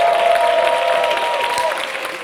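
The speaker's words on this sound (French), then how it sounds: "est-ce qu'on peut l'applaudir?" Studio audience applauding at a comedy show, a loud, steady wash of clapping that eases slightly toward the end.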